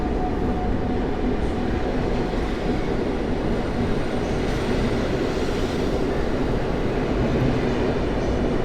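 Passenger train with half-coaches and a combo car at Warszawa Centralna station, a loud, steady rolling rumble of wagons passing close by and running continuously with no voices.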